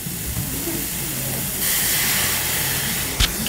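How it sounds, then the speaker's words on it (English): Wine poured into a hot pan of sautéing fiddleheads in a home kitchen, giving a sudden loud sizzling hiss that rises midway and holds steady, with a brief clink near the end. "I'm going to add a little bit of wine"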